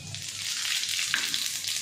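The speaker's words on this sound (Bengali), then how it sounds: "এখন আমি এর মধ্যে জিরা ফোড়ন দিয়ে দিচ্ছি।" Cumin seeds sizzle in hot oil in a wok, a close, bright hiss with fine crackles that holds steady throughout, with no voices.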